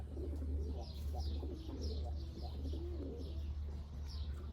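Ala pigeons coo softly in repeated throaty phrases, with light chirps and a low steady hum in the background.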